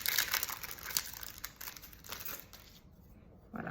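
Plastic packaging around butterfly cutting dies crinkles and crackles continuously as it is tugged at and opened, close and fairly loud, with a short pause before a final crinkle at the end.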